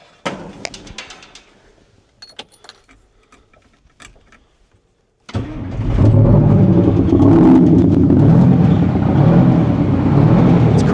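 A 20-year-old abandoned GMC semi truck engine: faint ticks and clanks at first, then the diesel fires up and settles into a loud, steady rumbling idle close by.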